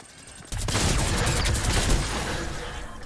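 Minigun fire in a video game, a sudden sustained burst that starts abruptly and roars continuously for a few seconds, loud and close, slowly tapering at the end.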